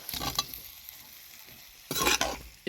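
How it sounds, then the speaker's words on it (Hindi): Onions and spices stirred and fried together in a pan for a quince apple curry, two short bursts of scraping and sizzling separated by a quieter stretch. "जो प्याज है इसके साथ हल्का सा मिक्स करके फ्राई कर लेंगे थोड़ा सा"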